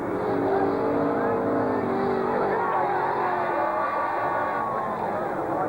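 NZ stockcars race around a track, their engines droning and revving loudly and continuously as the cars circle, while a commentator talks over the roar.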